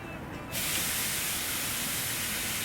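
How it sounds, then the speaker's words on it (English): A sudden loud sizzle bursts in after a half second of quiet and keeps hissing steadily as tri-tip hits a hot grill, close by. "Listen to that sizzle, folks."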